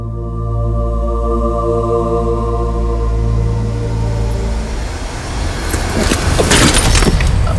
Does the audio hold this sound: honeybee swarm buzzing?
no